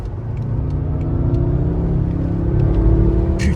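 A BMW M5 F10 drives along, its engine rumbling steadily with a rising drone and a thin whistling tone running over the road noise.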